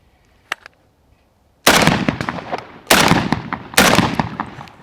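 A faint click, then three loud, sharp shotgun shots at clay targets ring out about a second apart, each followed by a long rolling echo, at a sporting clays range.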